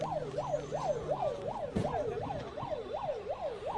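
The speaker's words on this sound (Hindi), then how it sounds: "अब यहाँ पर एक एम्बुलेंस जो है वो मॉर्चरी की तरफ रुख करते हुए अंदर चली गई है" An ambulance siren wails in a steady, repeating up-and-down cycle at moderate distance outside a hospital mortuary, with traffic rumble beneath and no talking.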